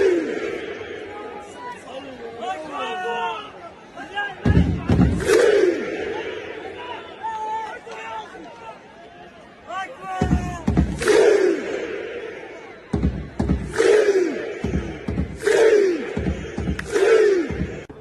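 A football stadium crowd at an Al-Nassr match chants 'Siu' in loud, repeated surging roars over a constant din of massed voices.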